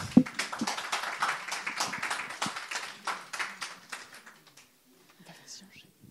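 A conference audience applauds after a talk on intergenerational solidarity: a dense patter of hand claps, moderately close, that thins out and fades to near silence toward the end.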